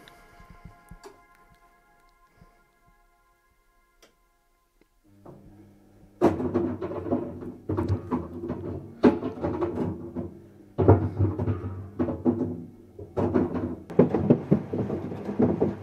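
A washing machine drum starts with a low hum, then a rugged Doogee S70 smartphone tumbling inside knocks and thuds against it in an irregular rhythm, loud and clattering.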